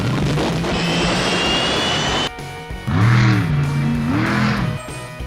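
The Batmobile roars with a broad engine rush, then after a short drop two rising and falling revving whines sweep by loudly and close.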